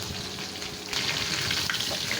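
Hilsa fish fries in a wok, giving a steady, close sizzle of hot oil that grows slightly louder partway through.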